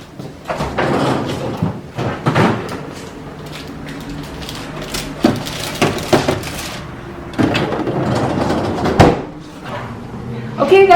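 A freezer door is pulled open and pushed shut in a kitchen, with several knocks and thuds against a roomy background of handling noise.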